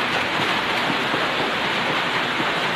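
Heavy rain pours down on a house, a dense, steady, loud rush of water with no breaks across the whole stretch.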